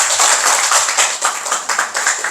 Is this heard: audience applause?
yes